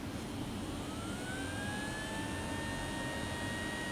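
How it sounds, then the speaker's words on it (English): Electronics cooling fan in a Folger Tech FT-5 large-format 3D printer, rattling badly, gives a steady, loud whirring drone with a faint whine that creeps slightly higher in pitch, heard close and alone. "The main cooling fan for the electronics, well, the one that they included, it just had a terrible rattle."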